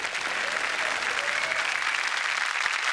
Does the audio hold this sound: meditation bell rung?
no